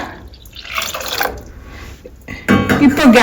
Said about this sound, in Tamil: இப்போ வந்து நம்ம தண்ணி ஆட் பண்ணிப்போம்